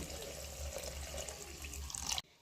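Water pours steadily into a pan of cooked-down spices for a chicken and pointed gourd korma, a continuous splashing rush that stops abruptly at the end.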